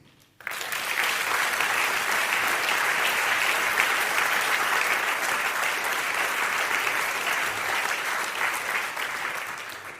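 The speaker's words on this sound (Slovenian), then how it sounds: "lahko se jim seveda zahvalimo z aplavzom" Sustained applause fills a film festival opening ceremony, a large audience clapping loudly and steadily for about ten seconds before tapering slightly at the end.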